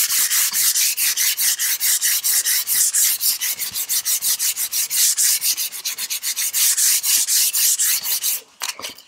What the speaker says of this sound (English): I'll take some sandpaper.